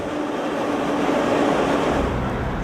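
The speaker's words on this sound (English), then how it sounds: "The Zarengold enters the Kazan railway station." The Zarengold private train rolls into Kazan railway station with a steady, broad rumble and hiss of wheels on rails, constant and fairly loud throughout with no voices.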